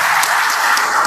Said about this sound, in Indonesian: Tepuk tangan dulu buat Tegar ya